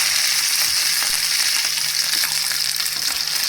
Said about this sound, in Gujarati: રાઈ ફૂટી જાય એટલે ત્યાર પછી આપણે તેમાં લીમડો નાખી દઈશું.